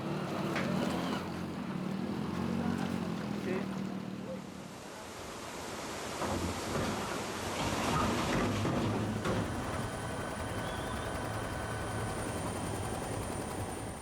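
A ferry crossing a river, heard as steady engine rumble mixed with rushing water and wind noise throughout, fairly loud and continuous with no clear talk.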